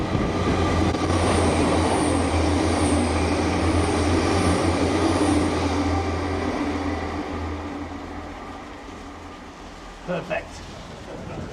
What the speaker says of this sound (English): trains are going to be hurtling through there at probably 70, 80 mile an hour